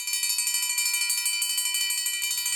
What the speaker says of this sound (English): The lunch bell rang.